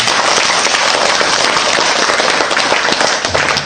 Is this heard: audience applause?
yes